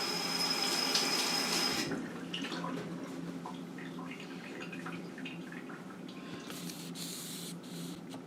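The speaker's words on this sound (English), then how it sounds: "I'm going to wash my hand off." Water runs from a tap over hands, a steady spray that is louder for the first two seconds and then continues softer with splashing and drips, with no talking.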